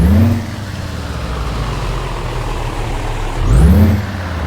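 Heavy truck engine in Euro Truck Simulator 2 revs up loudly, settles into a steady low drone, then surges again near the end, with no talking over it.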